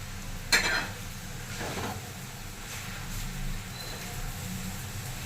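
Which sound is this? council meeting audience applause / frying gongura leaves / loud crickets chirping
frying gongura leaves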